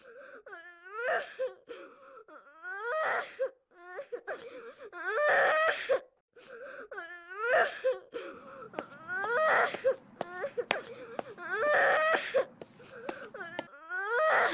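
A boy cries loudly in his room, with repeated rising and falling wails and sobs broken by short gasping pauses, continuing without letup.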